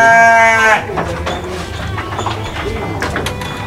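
At a sheep farm breeding crossbred sheep, one sheep gives a loud, close, quavering bleat at the start, followed by a busy pen ambience of softer animal noises, shuffling and faint bird calls.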